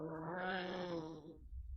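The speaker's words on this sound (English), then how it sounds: "Sound like a cat underwater." A meme cat sound, a warbling drawn-out meow that sounds like a cat underwater, wails for just over a second, then cuts off into a low rumble; faint and alone.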